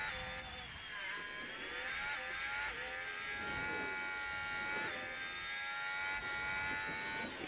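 An F1 car engine in the F1 23 Manager racing game drones continuously at a high whine, its pitch rising and dipping with gear changes and lifts, steady and prominent throughout.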